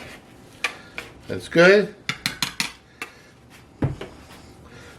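A whisk stirs dry muffin ingredients for vegan cinnamon apple muffins in a bowl, giving scattered metallic clinks and taps and a brief scraping swirl, with a short spoken remark in between.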